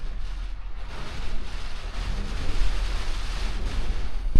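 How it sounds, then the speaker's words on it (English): Strong wind roars outside in a continuous, gusting rush with a deep low rumble, swelling louder toward the end. "It's so windy out there."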